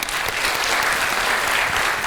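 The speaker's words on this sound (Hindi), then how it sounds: "नेहा के लिए बहुत तालियां" Audience applause for a woman named Neha at a motivational talk show, steady dense clapping filling the whole moment without voices.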